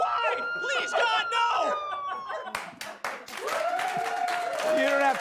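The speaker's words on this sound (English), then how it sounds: "You don't have to clap." A studio audience claps and cheers at a comedy talk show, bursts of applause and whoops rising through the middle and continuing under a voice toward the end.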